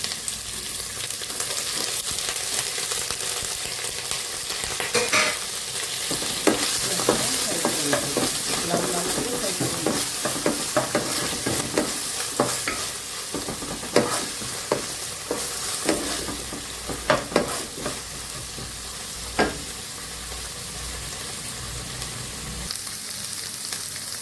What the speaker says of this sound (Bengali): পেঁয়াজ কুচিয়ে রেখেছি সেটা দিয়ে দিচ্ছি।